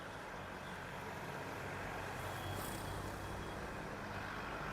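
Faint road traffic rumbles steadily in the background, a vehicle running somewhere off at a distance with a constant low wash of engine and tyre noise, recorded on a wireless lavalier mic.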